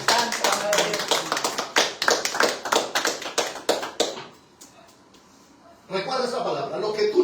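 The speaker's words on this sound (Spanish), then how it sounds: "Dale palmas al que vive, iglesia." A church congregation claps hands in a fast, steady rhythm of sharp overlapping slaps, then drops to near silence before a burst of crowd noise returns.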